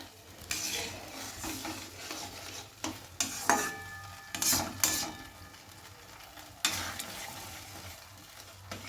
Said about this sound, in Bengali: এটাও এইবার একটু নাড়াচাড়া করতে হবে খুন্তিতে, কেননা কর্নফ্লাওয়ার সেহেতু নিচে বসে যায় কড়ার নিচে।